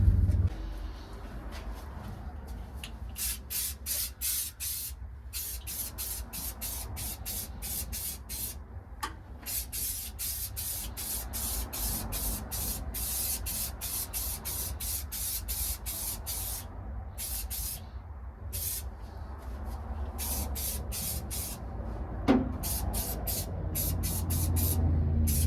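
Aerosol spray paint can hissing in repeated bursts of varying length, sprayed while working on floor pans of a 1978 Ford, fairly close and loud over a steady low background rumble.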